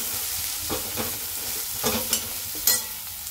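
Ridge gourd sautéed in a pan with turmeric and salt, a continuous sizzle with a few scrapes and taps of a spoon stirring, close and fairly soft, with no voices.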